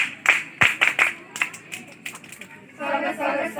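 A crowd gives welcome clapping at a scout and guide program: a run of sharp, irregular claps, then voices chanting together.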